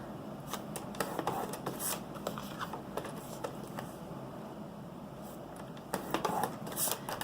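Cardstock is scored on a paper cutter, giving a series of quiet scraping and clicking strokes in short bursts with pauses in between, close and faint.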